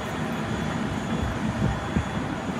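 An ANA airliner departing Hakodate Airport, heard from the observation deck as a steady, moderately loud jet engine roar with a broad rushing noise that holds throughout.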